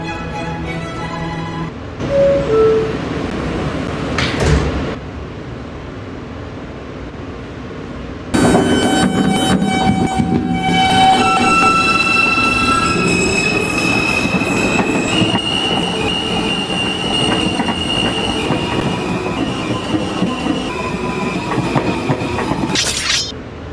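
A subway train in the Roblox game SubTransport pulls away, starting with chimes and door sounds, then a loud rumble with squealing wheels and rattling cars that builds steadily.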